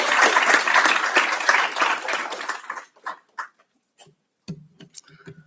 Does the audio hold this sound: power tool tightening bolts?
no